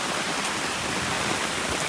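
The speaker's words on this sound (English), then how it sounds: "This rain is trying to put out here." Heavy rain pours down during an outdoor Memorial Day cookout, a dense, even hiss of falling water that stays loud and steady throughout, with no voices.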